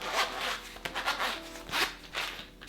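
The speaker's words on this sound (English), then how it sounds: "Oh, I see a zipper." Zipper on a Halston jewelry organizer portfolio being pulled open in several quick rasping strokes, close and fairly quiet, with short pauses between pulls.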